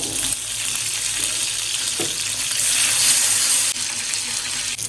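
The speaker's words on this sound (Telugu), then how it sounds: "వెల్లుల్లిపాయలు వేగే వరకు లో ఫ్లేమ్లో పెట్టి వేగించుకుందాం" Steady hissing sizzle of garlic frying in hot oil on low flame, continuous and close, with faint crackles throughout.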